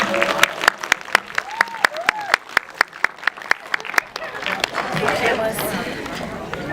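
Clapping at a film premiere Q&A, starting with sharp, distinct hand claps in a loose rhythm over scattered voices, then swelling into fuller crowd applause and chatter near the end.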